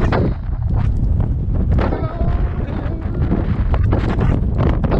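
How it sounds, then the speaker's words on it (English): Strong wind at the Grand Canyon buffets the microphone in a constant loud roar, with gusty rumbling throughout and no clear speech. "my god, it's so windy."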